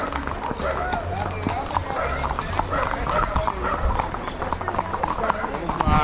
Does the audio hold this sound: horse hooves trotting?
yes